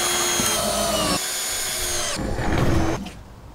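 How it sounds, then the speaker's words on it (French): A power drill drives screws to fix a roof truss triangle into a doubled beam, whirring loudly and steadily up close with pitch shifts as it loads and slows before winding down at the end. "Pour visser ton triangle depuis l'extérieur, tu dois doubler la poutre."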